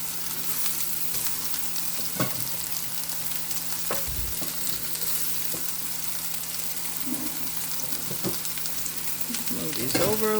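Meatballs fry in a pan on medium heat with a steady, close sizzle, broken by a few soft clicks and scrapes from a utensil.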